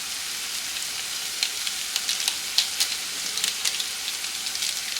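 Maggi masala spices with turmeric and chili powder frying in a pan over a low flame, giving a steady soft sizzle dotted with small crackles and pops, close and on its own with no voices.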